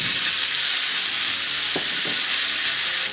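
Steady, loud hiss of red grapes frying in a hot pan alongside pork chops, a dense continuous sizzle heard up close, with a couple of faint clinks partway through.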